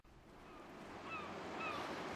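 Seaside surf and wind at Margate: a soft, steady wash of waves with breezy hiss, faint and fairly distant, plus thin high cries from seabirds.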